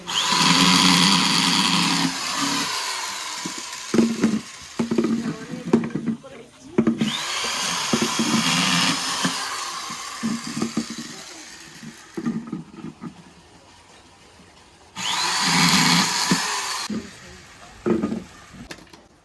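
A power drill bores holes through flower pots for planting, running in several loud sustained bursts with pauses between them, while people talk and handle things in the gaps.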